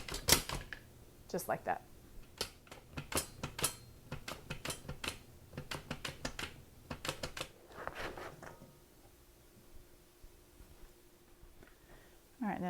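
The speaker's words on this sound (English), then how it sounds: "But I like my mandolin for this. Just going to cut the ends off and then make slices" Squash sliced on a mandolin slicer gives a quick run of sharp, rhythmic clicking chops, close and fairly quiet, which stops partway as a voice speaks briefly.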